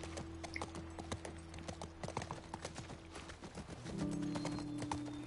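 Rapid clip-clop of horse hooves galloping steadily in the video game The Last of Us Part 1, with a low droning tone joining near the end.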